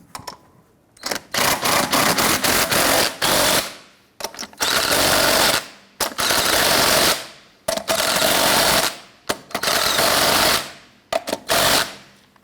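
Lug nuts are snugged down on the front wheel of a 1999-2004 Jeep Grand Cherokee with a loud power tool that rattles in about six sharp bursts, each a second or two long, separated by short silences.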